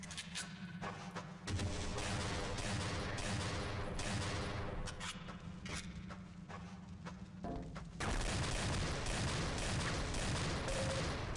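Rapid automatic gunfire in the video game Overgrowth, Delta Particles mod, comes as dense sustained bursts of shots with heavy low rumble. A louder stretch of fire starts partway through.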